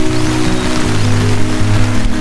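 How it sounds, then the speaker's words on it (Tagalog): Steady rain patters down over a campsite in the morning, a dense, even hiss continuing without a break for a couple of seconds alongside a low hum. "napakaganda ng panahon ngayon dito dahil, ayan, umuulan"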